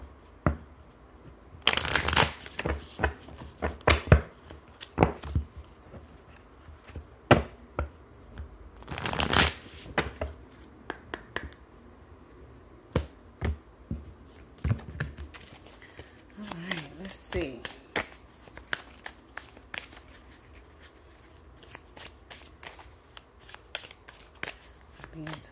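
A Wisdom Oracle card deck is shuffled by hand in loud riffling bursts and cascades, with pauses and lighter flicks in between. A voice speaks at times over the card sounds.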